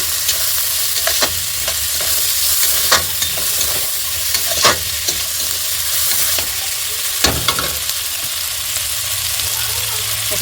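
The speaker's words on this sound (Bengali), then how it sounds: "দিয়ে দেবো স্বাদ মতো নুন, দিয়ে দেবো হলুদ গুঁড়ো, এটাকে নাড়াচাড়া করে দেবো" Onion, chili and garlic with salt and turmeric stirred in a frying pan, a steady sizzle broken by repeated scraping strokes of the spoon against the pan, close and clear with no talk.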